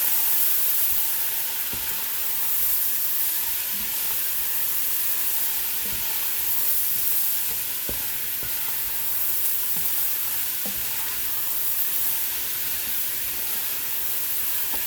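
Food being stirred and sautéed in a pan: a continuous sizzle with scattered scraping clicks from the utensil, alone and close.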